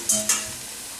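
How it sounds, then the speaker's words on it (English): Coconut milk poured into an already hot pot for Sri Lankan milk rice, two quick bright splashing hisses that fade into a soft simmer. "Add my coconut milk in here."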